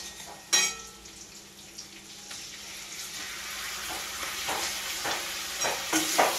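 Mustard paste, ginger, garlic, chili powder and turmeric fry in a pan while being stirred, giving a soft, steady sizzle broken by scraping strokes and a sharp clank near the start.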